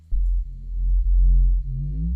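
A deep, sustained synth bass tone sweeps slowly through a notch filter modulated by an LFO, with a little drive and resonance, the notch pitch gliding downward while the low note holds loud and steady with brief dips between phrases.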